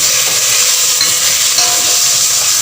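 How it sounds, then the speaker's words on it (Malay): Chopped tomatoes sizzle and fry steadily in a hot pan for an Indian fish curry, a continuous close crackle with faint stirring and no talk. "Put in the tomatoes and cook it down."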